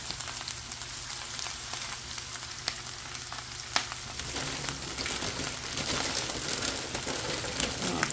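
Handfuls of chopped kale sizzling in a hot pan, a dense crackling hiss throughout with sharper pops and a brief clack, no voices.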